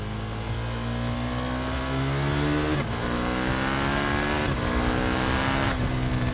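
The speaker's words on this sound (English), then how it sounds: "I'm giving it a handful of throttle and the front wheel just isn't coming up." A KTM 1290 Super Duke R in track mode, ridden hard on a new tyre, its engine roaring loud and close under full throttle, the pitch climbing through gears with brief dips at each upshift.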